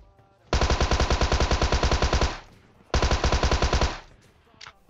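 Tommy gun fired in PUBG Mobile, two long full-auto bursts of rapid, evenly spaced shots, loud and close, with a short gap between them.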